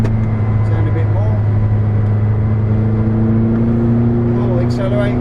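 A McLaren 620R accelerates on the Silverstone track, its engine a loud, close, sustained drone with a strong tonal whine that climbs slightly toward the end, while a voice talks over it.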